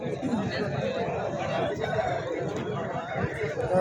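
Roosters crow among many hens at a busy poultry market in Galiveedu, set in dense crowd chatter and clucking throughout; people talk nearby the whole time.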